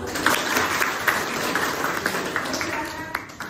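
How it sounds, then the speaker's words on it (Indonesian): Classroom of students clapping in counted rhythm patterns during a computational-thinking lesson, bursts of claps in short groups over a steady murmur of voices, with a teacher talking. "Tepuk tiga satu, tepuk lima, tepuk dua satu."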